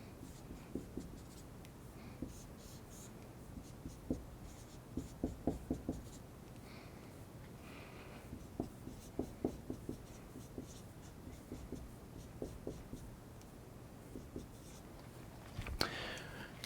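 Pen strokes drawing out organic chemistry structures, soft scratchy scribbles in short bursts separated by pauses, faint over a low room hum.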